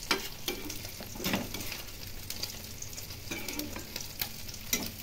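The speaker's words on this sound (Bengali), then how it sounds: "এখন ভালো করে নাড়াচাড়া করে নেব, করে অন্য পাত্রে নামিয়ে নেব" A spoon stirring small fish chochhori curry with vegetables and fresh coriander leaves in a pan, quiet scraping strokes and soft sizzling coming in irregular bursts.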